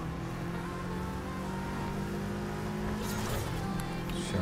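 A car engine hums steadily with a rising rev toward the end, steady and fairly close, with no talking.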